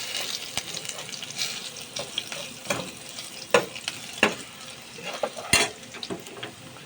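Pork steak frying in a pan, a steady soft sizzle broken by intermittent clinks and stirring scrapes, close and moderately quiet with no talking.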